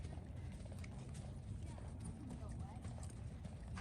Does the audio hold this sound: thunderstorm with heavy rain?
no